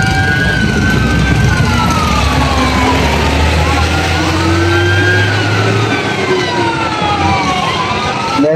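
Loud wailing sirens from several fire trucks at a house fire in San Andres Bukid, Manila, overlapping tones rising and falling continuously, with engine rumble underneath.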